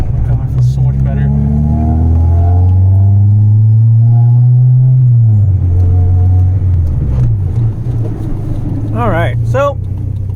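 A 1990s Honda Civic EK track car's engine roars loud and close from inside the cabin, surging and dropping as revs change, with someone speaking briefly over the drone.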